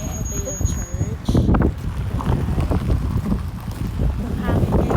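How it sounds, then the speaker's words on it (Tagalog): Wind gusts blow outdoors on a cold day near a church in New Brunswick, Canada, a steady rough buffeting rumble that batters the microphone for the whole stretch. "Ang hangin ngayon. Super lamig."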